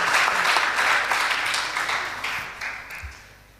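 An audience at a school debate competition claps in a full burst of applause that gradually fades over a few seconds, with no talking.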